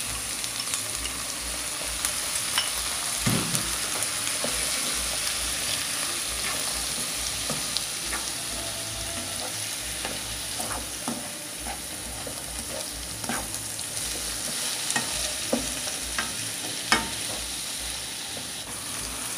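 Tomato and shrimp fry in a pan of sizzling oil with a steady crackle, punctuated by occasional utensil clicks and stirring, with no voices.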